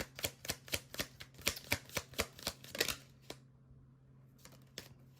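Tarot cards being shuffled by hand, a close, quick run of crisp riffling snaps for about three seconds, then a few scattered taps and a softer final flutter, with no speech.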